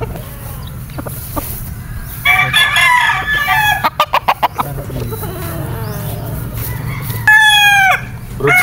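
A gamefowl brood stag crows loud and near on a game farm, two full cock-a-doodle calls separated by soft clucking and a quick series of sharp flapping or pecking clicks.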